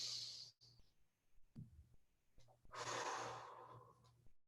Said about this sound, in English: focusing on breathing into the back side of your body today.